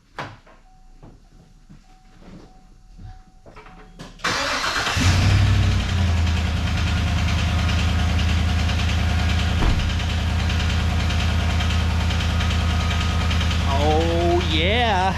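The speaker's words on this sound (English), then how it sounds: "that's the classic DOD lifter tick" A 2015 GMC Yukon engine, with a DOD lifter tick, cranks and catches about four seconds in, then settles into a loud, steady, close idle. A faint ticking may run under the idle. Quiet voices are heard before the start.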